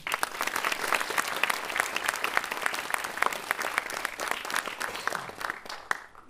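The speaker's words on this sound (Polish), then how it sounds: "Wielkie brawa." Thick, sustained applause fills the hall at a sports gala. Many hands clap at close range, and it begins to fade in the last second.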